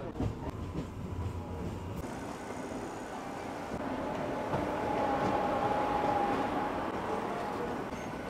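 A crowded early-morning passenger train bound for Kolkata on a cold winter day gives a continuous low rumble and rattling, heard from inside the carriage and growing slightly louder midway, with no one speaking.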